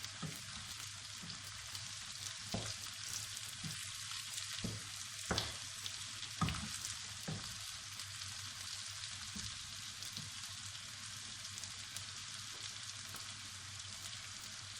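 Bitter gourd (karela) frying with onion in a pan gives a steady broadband sizzle with a few scattered sharper crackles and pops, fairly faint and continuous with no voices.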